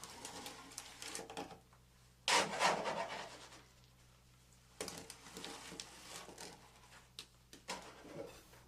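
Concrete is scooped into a slump test cone with the scoop moved around the rim, giving faint scraping and gritty rubbing bursts separated by near-quiet pauses.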